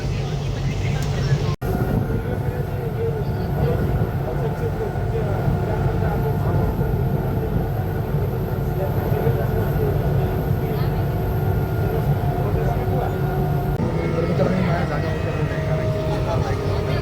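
A Mumbai local train heading for Kurla gives a continuous loud rumble and rattle from inside the carriage, with voices talking over the din.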